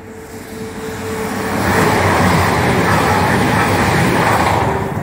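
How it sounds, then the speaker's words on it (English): A loud, steady rumble of a train rolling through Starcross station, building over the first two seconds and holding as a broad roar with faint voices underneath. "there's another train going to go through"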